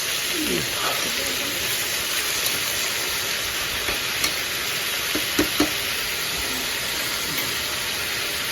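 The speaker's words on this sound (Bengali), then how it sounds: "ভালো করে মিক্স করে ঢাকা দিয়ে দিচ্ছি" A utensil stirs food in a cooking pot on a home stove in a Bengali kitchen, with a few soft scrapes and knocks over a steady hiss of sizzling.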